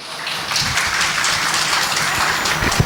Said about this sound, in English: Give an applause for HWS Fortune Marketing Private Limited Company